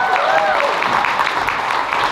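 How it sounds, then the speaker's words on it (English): An audience at a convention opening ceremony applauds, a dense steady patter of clapping close and loud for about two seconds, with a few voices mixed in. "So help me embarrass her by giving her a big round of applause for JM Bad, otherwise known as Joe!"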